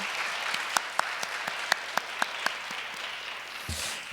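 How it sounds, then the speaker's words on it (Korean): Applause from a congregation at a Korean church blessing ceremony, a continuous wash of clapping with a few louder individual claps standing out, and a brief thump near the end. "김석진 교구장님께 다시 한번 뜨거운 박수 부탁드리겠습니다"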